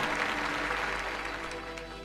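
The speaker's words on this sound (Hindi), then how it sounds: "ज़ोरदार तालियों के साथ इस गवाही के लिए परमेश्वर का धन्यवाद करें" A church congregation claps steadily for a testimony of prayer, a dense wash of applause held at an even level through the whole stretch with no voices over it.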